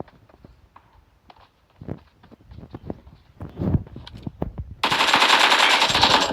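Rapid automatic gunfire from a PUBG Mobile match, preceded by scattered single shots and footstep-like clicks, then bursting into a loud sustained volley at the end, with no talk over it.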